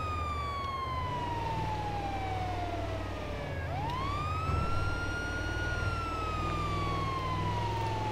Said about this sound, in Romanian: Ce se duce salvarea